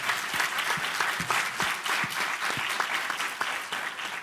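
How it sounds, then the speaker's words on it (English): An audience applauds steadily for a retired general introduced as a speaker at an event on leadership, response and recovery, dense continuous clapping filling the room without pause. "Please give General Honore a round of applause."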